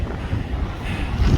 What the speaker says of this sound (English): I'm sorry about the wind, I'm trying to shield you.